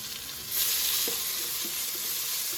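Sliced large onion sizzling in hot oil in a pan, a steady bright hiss that swells as the onion goes in, with faint stirring clicks underneath and no voices.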